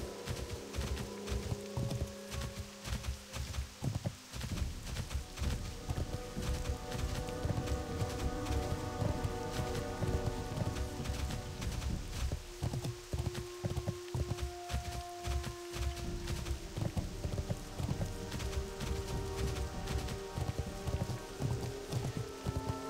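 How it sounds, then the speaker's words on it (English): Steady rain patters throughout a World of Warcraft game world, mixed with dense game sounds such as hoof-like clip-clop and footstep effects, with no talking. "Wonder if this is acid rain that's falling."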